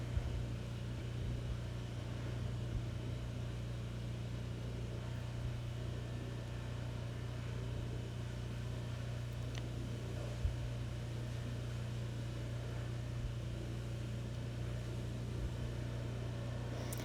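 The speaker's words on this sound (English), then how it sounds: "sometimes I'll use the immersion blender again to make sure everything is nice and blended well" An immersion blender mixes cold process soap batter with mica, giving a steady, close motor whir with a constant low hum that runs unbroken and evenly throughout, with no talking.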